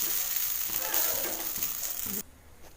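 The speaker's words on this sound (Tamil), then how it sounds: "நம்ம வச்சுருக்க இடியாப்பத்தை இதில் போட்டு நல்லா சுருள கிண்டி எடுத்துக்கலாம்" Idiyappam being stirred in a pan with coconut and onion, a steady close sizzle with soft scraping that cuts off abruptly near the end.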